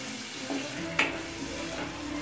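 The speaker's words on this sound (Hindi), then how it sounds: "सारी चीज़ों को अच्छे से मिक्स करके भूनना है।" Tomato puree and onions fry in a pan with a steady sizzle, broken by a few stirring scrapes and one sharp utensil knock near the middle, heard close up.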